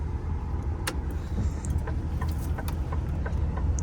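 A truck idles and slowly maneuvers as it is straightened out and parked, producing a steady low engine rumble with a few faint clicks and ticks above it, close and constant throughout.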